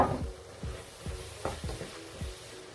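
Meat for Nigerian meat pie filling cooks in a pot with a steady sizzle, broken by a series of soft thuds and scrapes as it is stirred.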